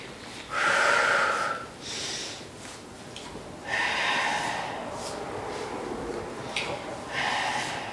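A person exhales forcefully during a resistance band leg exercise, several breathy snorting outbreaths spaced a couple of seconds apart, close and fairly loud.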